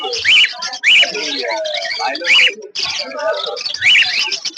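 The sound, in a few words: albino red-eye cockatiels at a bird market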